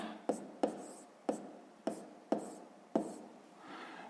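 Handwriting of a decimal fraction during a sixth-grade maths lesson: six sharp, evenly spaced pen or chalk strokes tapping and scratching against the writing surface, close and quiet, with no speech.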